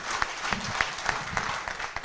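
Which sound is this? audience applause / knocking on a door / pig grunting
audience applause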